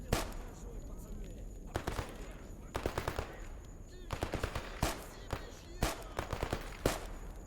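Bursts of rapid automatic gunfire crackle in the S.T.A.L.K.E.R. GAMMA video game, a heavily modded Stalker Anomaly, with repeated short volleys at a moderate distance over a steady ambient background.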